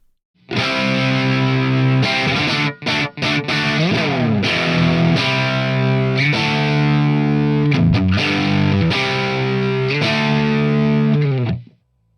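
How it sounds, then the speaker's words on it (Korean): Electric guitar driven through the amp gain of a Marshall Plexi model on a Fender Tone Master Pro, thick distorted chords and bends sustaining loudly with a few brief stops, played alone without talk. "이 마샬 플렉시의 앰프 게인 사운드를 들어볼게요"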